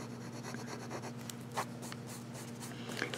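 An extra-fine pen scratches and rubs across thin Tomoe River paper while drawing small swirls, a close, soft, continuous writing sound with faint strokes and a low electrical hum beneath.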